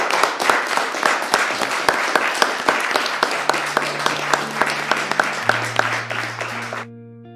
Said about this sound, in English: Can we a round of applause, please, for Peter?